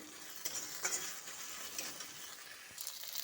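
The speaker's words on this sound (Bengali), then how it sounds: "ভালোভাবে মিক্স করে নিচ্ছি এরকম করে।" Pointed gourd is stirred in a hot pan with soft, faint scraping over a steady quiet sizzle of frying, with a few brief utensil clinks.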